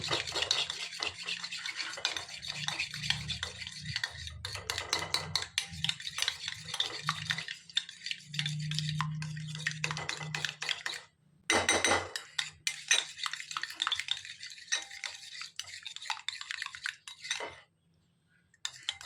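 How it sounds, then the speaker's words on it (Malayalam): Food being mixed with added tomato sauce in a pan or bowl, with steady clinking and scraping of a spoon against the vessel in quick repeated strokes, loud and close, pausing briefly around the middle and near the end. "ഇനി ഇതിലേക്ക് കുറച്ച് ടൊമാറ്റോ സോസ് ചേർക്കണം കേട്ടോ വരുന്നില്ലല്ലോ ഇതൊന്നിങ്ങനെ മിക്സ് ചെയ്ത് കൊടുക്കണേ"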